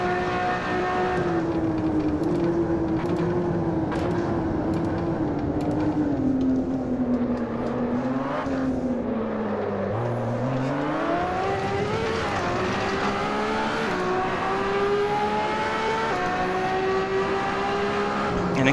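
A LaFerrari's engine drones loud and steady at Monza in Assetto Corsa, its pitch sliding down under braking and climbing again as the car powers out through Parabolica. Nothing else breaks the continuous, close roar.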